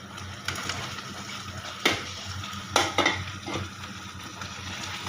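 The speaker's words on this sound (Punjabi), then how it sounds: "ਇਹਨੂੰ ਚੰਗੀ ਤਰ੍ਹਾਂ ਕਰ ਲਓ ਮਿਕਸ" Paneer being stirred into a spiced tadka in a pan for shahi paneer, with a few sharp clinks of a spoon against metal over a soft, steady sizzle; no talking.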